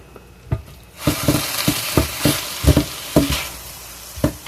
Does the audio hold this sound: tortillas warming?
yes